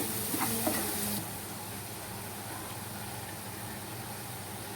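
A masala of chilli powder, garam masala, chaat masala, onion and tomato sizzles and frying in a pan, with a brief burst of stirring scrapes at first before a steady, close hiss of frying.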